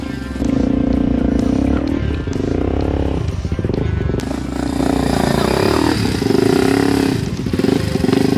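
A motorcycle ridden in first gear on a rough track near a dam, its engine droning loud and close with uneven revs and rattling throughout.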